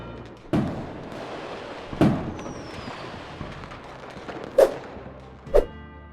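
New Year's Eve fireworks over Copacabana Beach in Rio de Janeiro, heard as four distant booming bursts spaced a second or two apart over a low crowd murmur.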